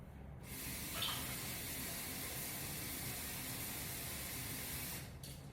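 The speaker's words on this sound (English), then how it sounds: "Add a little bit of water in here." Water runs steadily into a soup pot during chicken and vegetable soup making, a continuous close splashing pour that starts and stops abruptly with no talk over it.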